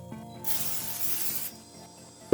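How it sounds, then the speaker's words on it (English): Cooking spray hissing onto cake tins in one steady burst of about a second, close and clear, with faint clinks before and after. "so I'm going to spray 2 tins."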